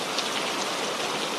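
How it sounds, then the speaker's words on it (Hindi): Heavy night rain pours down in a dense, steady hiss of drops striking surfaces, loud and unbroken with no other sounds. "वहां बस बारिश की आवाज थी"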